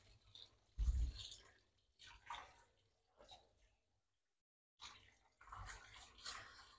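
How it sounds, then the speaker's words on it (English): Water drizzles over a cockapoo's head during grooming in soft, intermittent splashing bursts separated by near-silent pauses, quiet and close. "you let the water drizzle over and they should close their eyes"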